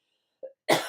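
A single short cough, preceded by a faint throat sound, close and abrupt in an otherwise quiet moment.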